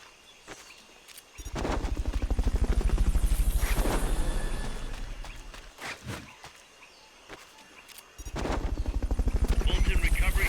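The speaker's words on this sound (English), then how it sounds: "Fulton recovery subject confirmed onboard helicopter" Helicopter in the Metal Gear Solid: Peace Walker video game, its rotor chop rising and fading in bursts between quieter gaps, mixed with game sound effects and a brief voice.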